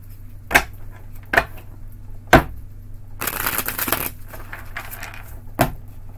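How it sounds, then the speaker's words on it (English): Tarot cards are shuffled by hand close up, a few sharp snaps followed by a longer riffling flutter and another crisp tap, with no voices. "One more shuffle"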